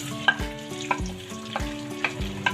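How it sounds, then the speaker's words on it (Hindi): Chopped onion fries in hot oil in a kadai, a close sizzle broken by repeated clinks and scrapes of a spoon stirring against the pan at a steady pace. "ऑयल मेरा गर्म हो रहा है, इसके अंदर मैं प्याज डाल दूँगी।"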